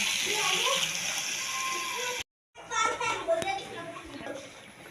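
Water is poured into a pot of potato curry, splashing and sloshing close by, with a short silent gap partway through and voices in the background.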